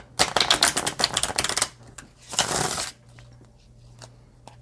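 A deck of playing cards being handled and shuffled: close, crisp riffling bursts in the first two seconds, a second brief shuffle, then quiet.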